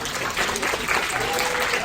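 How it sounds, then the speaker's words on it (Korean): A crowd applauds steadily at a high school chapel service, dense clapping filling the whole moment at a fairly loud, even level. "다시 한번 큰 박수 합시다"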